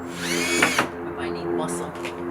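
A power drill partially driving a screw during a craft project, its motor whine rising and falling in short bursts, close and moderately loud, with a person talking over it.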